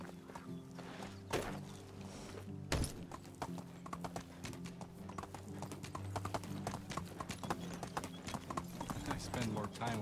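Horse hooves clip-clop at a steady walking rhythm in the medieval survival game Medieval Dynasty, fairly close and continuous across the whole stretch, with a brief louder thud near the start and faint game ambience beneath.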